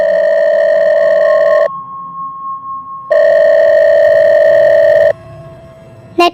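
A telephone call tone plays loud and close: a steady electronic ring sounds, stops for a quieter pause, sounds again, then cuts off with a short click.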